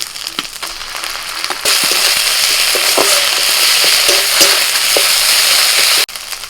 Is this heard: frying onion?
yes